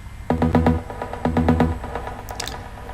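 A Spire trance pluck oscillator plays a rhythmic pattern of short harmonic notes, two bursts of repeated plucks with a brief bright shimmer near the end, dry and alone, with no talk.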